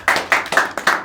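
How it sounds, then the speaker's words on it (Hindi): Sharp, close handclaps ring out, about five in a quick regular rhythm, from a live quiz session audience with no voices over them. "ताली बजाइए इसके लिए।"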